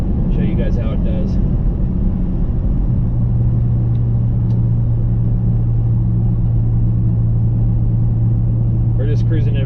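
Ford Excursion, a V10, 7.3 or 6.0 diesel, pulling hard on an open road, its steady low engine drone strengthening into a sustained hum with road rumble, while a voice talks briefly at the start and end.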